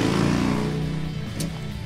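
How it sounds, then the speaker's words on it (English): A passing motorcycle gives a steady low engine rumble that stays loud and then eases off slightly as it moves away, with no voices. "Motorcycle going by."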